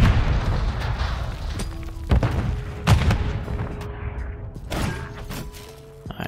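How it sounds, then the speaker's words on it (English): Grenade explosions in Call of Duty MW3 Search and Destroy, several heavy booms in succession, loud and close, each trailing off into a rumbling decay with faint mechanical clicks between them. "Throw two grenades."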